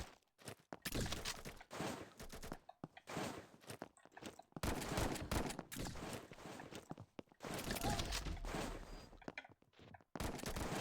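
Shotgun blasts in Call of Duty deathmatch play, several loud, heavy bursts with short gaps between them, plus quieter footsteps and clatter in the pauses.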